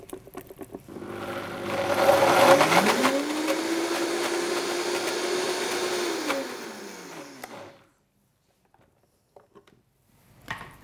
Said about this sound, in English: I'm just going to mix the cacao butter through before I turn the blender on